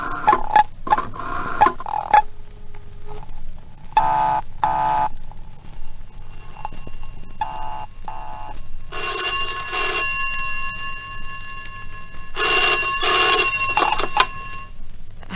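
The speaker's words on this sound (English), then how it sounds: "Now, dial Marcia's number" A telephone is dialed and then rings in an old radio drama, with short clicking dial bursts followed by repeated bright ringing, close and clear, with no talking.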